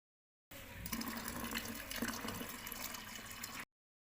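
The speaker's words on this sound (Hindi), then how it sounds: "राख नीचे बैठ जाए तो ऊपर से साफ घोल नितार लें।" Clear ash-lye solution is poured off settled ash into a glass or plastic container, giving a steady, close trickling pour that lasts about three seconds, then stops.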